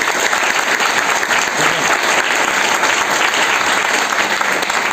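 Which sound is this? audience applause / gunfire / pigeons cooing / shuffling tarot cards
audience applause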